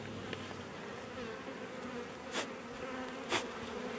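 Honey bees swarm over a frame pulled from a hive, giving a soft, continuous buzzing hum with a couple of brief louder passes from bees flying close.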